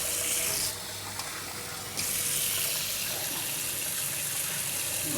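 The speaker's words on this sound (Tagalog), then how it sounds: "Lagyan ko lang ng tubig para walang usok." Water is poured onto a hot cooking grill, making a loud steady hiss and gush that dips briefly, then returns at full strength, with no talking.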